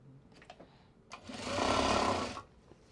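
A sewing machine stitches Japanese fabric bags in a steady burst of about a second, with some quieter handling sounds before it and no talking.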